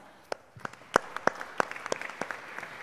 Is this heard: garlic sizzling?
no